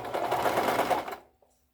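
A sewing machine stitches a tube dress in one steady continuous burst of rapid needle strokes, close and fairly loud, then stops abruptly, leaving near silence.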